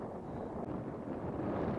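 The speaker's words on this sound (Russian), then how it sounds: "Ветер еще чуть-чуть усилился." Steady, strong wind of about 6 meters per second roars continuously against the microphone outdoors during rokkaku kite flying, a dense low rumble with no voices.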